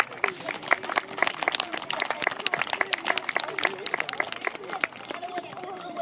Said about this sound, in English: So do you want to give Midas a massive round of applause?